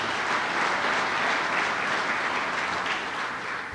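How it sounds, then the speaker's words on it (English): An audience at a governor's business announcement applauds the mayor, a dense steady wash of many hands clapping that holds loud for nearly four seconds before easing slightly. "Give her a round of applause"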